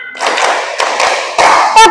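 Group hand clapping in a counting rhythm game led during a primary school teacher training session, several sharp bursts of claps in a short sequence, close and loud, with voices briefly mixed in.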